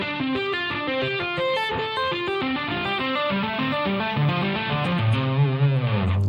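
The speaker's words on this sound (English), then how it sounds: "what happens if you do pull-offs going up the neck and then hammer on back down?" An electric guitar plays a fast, smooth legato run of pull-offs climbing up the neck and hammer-ons coming back down, with a mildly distorted tone and notes flowing evenly without picking breaks.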